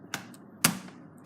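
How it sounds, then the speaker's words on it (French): A Lenovo ThinkPad laptop keyboard snaps back into its frame, giving two short, sharp plastic clicks about half a second apart, close and isolated against a quiet background. "On vient réemboîter le clavier. On entend le petit clic."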